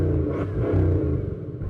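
Bugatti Chiron Super Sport and Pur Sport engines give a brief, loud, deep rumbling rev, close by and with no talk over it.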